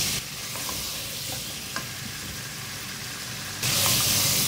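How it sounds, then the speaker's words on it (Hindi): Half a kilo of mutton fries in oil in a pot, giving a steady broadband sizzle with occasional stirring clicks, swelling louder near the end. "मटन को इसमें फ्राई करना है, इसका कलर चेंज हो जाए।"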